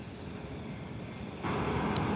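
A departing airliner on a flight to Honolulu roars from San Diego Airport as a broad, steady rush that swells suddenly louder partway through, heard at a distance without talk.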